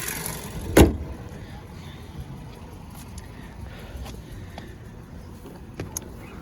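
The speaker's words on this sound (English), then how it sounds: "Go ahead and close up the hood. Lower the prop rod." The hood of a 2012 Ford Focus slams shut once after the prop rod is lowered, a single loud, close thump early on, followed by quiet ambience with a few faint clicks.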